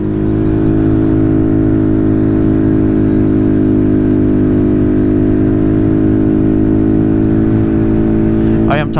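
A Honda Grom motorcycle engine holds a steady, loud, droning note at full throttle, close to the microphone with wind noise, continuous throughout with no gaps.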